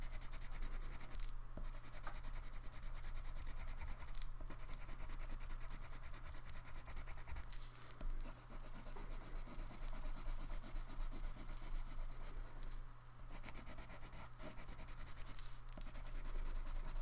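Colored pencil burnishing on paper gives a steady, close, soft scratchy rubbing that runs continuously, with faint stroke rhythms and no talking.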